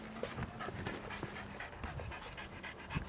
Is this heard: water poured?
no